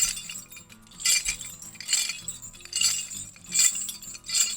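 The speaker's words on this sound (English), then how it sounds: "I actually have chains, and then we got shackles that were actually made in the 1850s." Metal chains and antique 1850s shackles rattle for a foley performance, sharp metallic clinks and jangles arriving in repeated bursts, close and fairly loud, with no voices.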